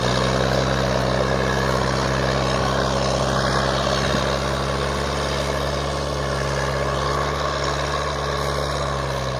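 An old Massey Ferguson 265 tractor engine drones steadily and loudly, a deep continuous diesel hum with rumbling low tones running throughout, close and unbroken with no talking.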